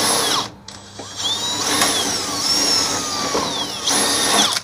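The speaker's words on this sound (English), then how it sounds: "I'm gonna drill some holes for a spot weld" A power drill with a flat bit whines loudly through sheet metal on a 1979 Ford F150 cab, its pitch rising and falling as it bites, with a brief pause early on before drilling resumes.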